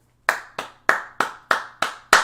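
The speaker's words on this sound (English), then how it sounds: "Let's clap it out of that." An audience at a church-style talk claps in a slow, steady unison rhythm, seven sharp, close hand claps spaced about a third of a second apart with no voices.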